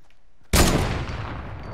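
A single loud, sudden gunshot in Fortnite strikes a player's build and leaves a long decaying boom after a quiet lead-in.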